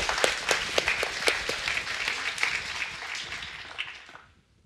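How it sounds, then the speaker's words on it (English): Audience applause after a talk at the Devcon4 conference, a room of people clapping with distinct individual claps, fading and then stopping at the end. "One more round of applause for Alex."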